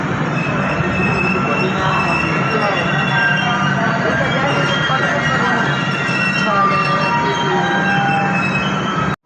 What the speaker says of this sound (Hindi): अब हमारी ट्रेन पहुंच चुकी है गुजरात के विरमगाम जंक्शन रेलवे स्टेशन पे